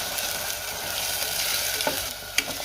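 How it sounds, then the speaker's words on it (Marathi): Ground masala paste, made with onion, tomato, ginger and garlic, sizzles steadily in oil in a pan as it is sautéed for a vegetable bhaji of peas and potatoes, with a few soft stirring scrapes and clicks and no talk. "आता हे वाटण तेल सुटेपर्यंत चांगलं परतून घेऊया"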